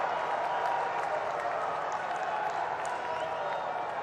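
Large crowd at a political rally applauding steadily, a dense continuous wash of clapping with faint cheers mixed in, heard from within the audience for the whole stretch.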